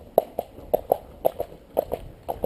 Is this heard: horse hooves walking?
yes